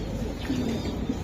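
Black young racing pigeon giving a soft, low coo, brief murmuring notes close by over a steady background hum.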